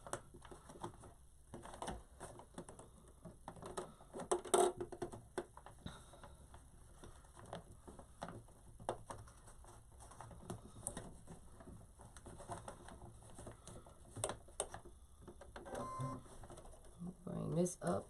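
A sewing machine runs a back stitch while sewing a heat press pillow with foam filling, its quick mechanical ticking rising and falling in short bursts close to the microphone, with a person talking over much of it.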